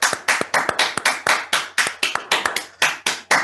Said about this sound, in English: A round of applause for Corina as well.